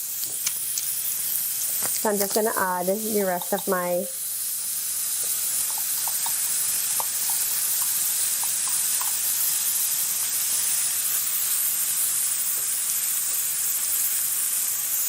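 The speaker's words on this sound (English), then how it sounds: "Here's a nice sizzle there." Chicken pieces sizzle and hiss steadily in a hot pan on a home kitchen stove, a bright constant frying crackle that keeps going after someone talks briefly near the start, with a few light clinks.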